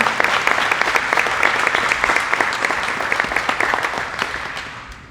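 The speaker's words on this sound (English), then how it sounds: "could we give them a round of applause?" Audience applause at a Veterans Day ceremony honoring military families, a dense steady patter of many hands clapping that holds strong and then thins and fades toward the end.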